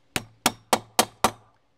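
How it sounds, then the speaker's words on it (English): A hammer strikes the notch of a metal joist hanger on a treehouse build: five crisp, evenly spaced impacts, each ringing briefly before the next, close and clear with no other sound. "that notch, you actually hit it with the hammer"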